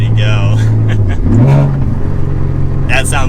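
A heavily modified Nissan Z with an aftermarket exhaust revs up while warming, the engine note rising and holding at a steady drone under a man's loud, close talking.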